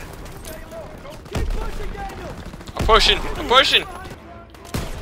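Gunfire from an STV-40 rifle in Call of Duty WW2, several loud bursts of shots roughly midway through, set against constant game battle noise while someone talks over it.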